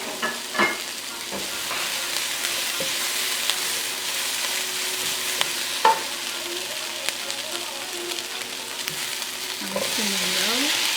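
Ginger tossed into a sizzling karahi pan for chicken thighs, with a constant frying hiss, a few sharp spatula knocks, and scraping stirs near the end, close and moderately loud with no talk.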